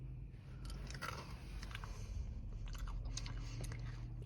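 Close, quiet crunching as someone chews crunchy M&M cookie candy, with steady brittle bites and crackles that continue without talk.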